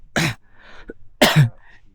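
A person coughs twice on a foggy mountain hike on Mount Sumbing, via Kaliangkrik. Two sharp, harsh coughs about a second apart sound close to the microphone, with faint rustling and breathing between them.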